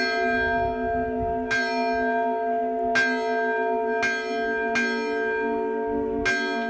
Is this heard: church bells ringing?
yes